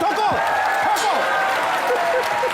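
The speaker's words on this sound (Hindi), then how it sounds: "उनके एक बार जोरदार ताली" A television comedy studio audience claps loudly and continuously for a star guest's arrival, a dense close patter of hands mixed with scattered whoops and cheers.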